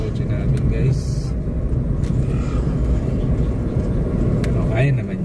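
Car driving along a rough road toward a campsite in Norzagaray, Bulacan, its engine and road rumble loud and steady throughout, with voices talking inside the vehicle.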